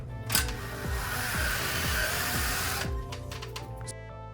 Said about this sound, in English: Then use a drill to make holes at the marked locations.